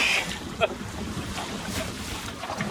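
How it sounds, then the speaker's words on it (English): Wind buffets the microphone in low rumbling gusts over open water while sailing among whales, with faint distant sounds underneath. "It's just getting a bit windy."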